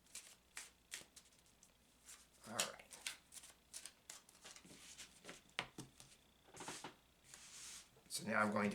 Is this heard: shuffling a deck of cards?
yes